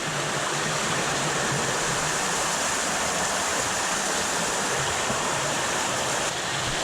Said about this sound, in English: The waterfall comes down here, shoots right out there.